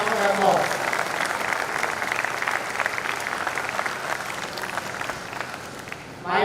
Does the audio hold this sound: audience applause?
yes